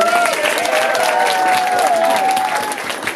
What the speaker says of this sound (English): let's give one last round of applause for all of our graduates